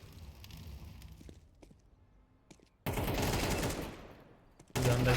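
Gunfire in Counter-Strike 2, a loud sudden burst of rapid automatic shots after quieter game ambience, followed by another abrupt blast at the end, with no talk.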